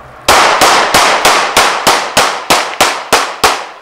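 A handgun fires ten shots in quick, even succession at a shooting range during a concealed-carry class, each report loud, sharp and close with a short ringing decay.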